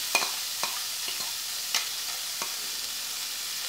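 Onions, bell pepper and garlic cooking in butter in a pan for potato gratin, a steady soft sizzle with a few light stirring scrapes and taps, close and alone.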